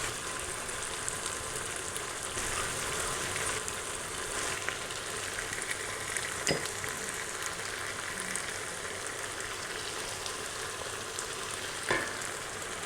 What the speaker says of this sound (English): so we've got that boiling away lovely now